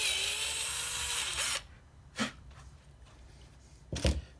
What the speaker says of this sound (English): So I take a drill, of course, and drill slightly out.